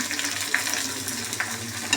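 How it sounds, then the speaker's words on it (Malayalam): Onions and coconut pieces fry in hot oil for a Kappa biryani, a steady low sizzle with light stirring and a few soft clicks of a utensil against the pan. "തേങ്ങക്കൊത്ത് ചുമന്നിട്ട് അതിനകത്തോട്ട് കുറച്ച് സവോളയും കൂടി ഇടാതെ."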